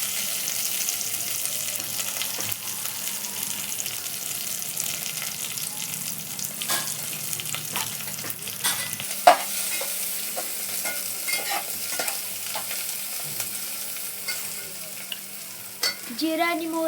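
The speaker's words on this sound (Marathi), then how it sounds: "आता चांगल्या प्रकारे मिक्स करायचं आहे आपण ह्याला" Onion, curry leaves, coriander, cumin and mustard seeds sizzle steadily in a pan while being stirred, a continuous frying hiss with a few scraping clicks of the spoon and a brief tap near the end.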